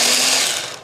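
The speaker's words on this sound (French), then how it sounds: "J'ai placé tous mes ingrédients dans le bol du blender. Je vais mixer tout ça en une crème." Blender whirring as it purées aperitif ingredients including cherry tomatoes into a cream, a brief loud steady motor whine that fades slightly at the end.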